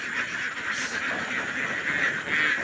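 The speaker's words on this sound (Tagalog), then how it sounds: "So pinapalabas na po natin yung mga alagang itik natin mga ka-Duckers dahil pupulutin na natin yung kanilang mga itlog" Pet ducks (itik) quack in a busy, overlapping chorus as they are let out of their pen, a steady mid-range racket close by with no talk over it.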